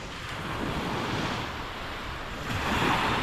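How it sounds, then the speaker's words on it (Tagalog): Ocean waves wash onto the shore at Lobo Beach in Batangas, a steady broadband rush of surf mixed with wind buffeting the microphone, swelling slightly toward the end, with no talk. "Nandito na kami sa beach."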